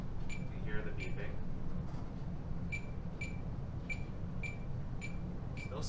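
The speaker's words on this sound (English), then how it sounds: "You can hear the beeping." Short electronic beeps from a Zebra TC53/TC58 mobile computer barcode scanner repeat at a steady pace against a low background hum and some murmured voices.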